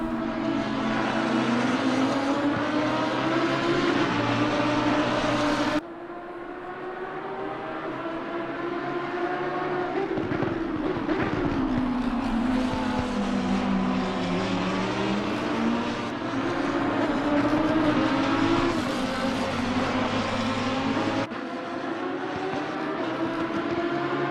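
Lamborghini Super Trofeo race cars at Misano scream past in a sustained, loud, high-revving engine note that rises and falls with gear changes and passing cars, with no talking.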